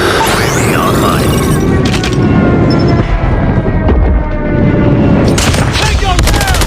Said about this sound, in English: Enemy airstrike incoming.